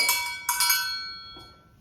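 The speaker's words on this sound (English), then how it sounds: "And right here we got a recess bell." Two bright metallic strikes of a school recess bell ring out close by, each leaving a clear shimmering decay, followed by a softer third touch.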